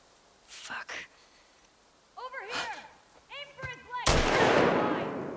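Enemy gunfire in The Last of Us Part II, a few sharp separate reports early on, then one loud blast that trails off into a long noisy decay, with voices talking between the shots.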